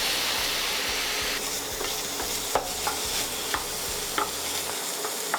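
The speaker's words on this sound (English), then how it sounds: "We'll brown this pork up." Pork browning in a hot pan on a home stove, a steady close sizzle of frying meat broken by a few sharp pops and scrapes of stirring.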